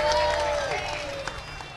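Audience applause at a Balinese comedy show: steady, dense clapping throughout, with a sustained sung or spoken tone riding over the crowd noise.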